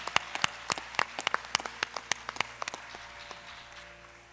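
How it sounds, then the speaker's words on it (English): Applause from a small audience at a Carnatic music arangetram, greeting the lead vocalist with sparse, distinct handclaps that thin out and fade over a few seconds. "Please give a round of applause for our lead vocalist"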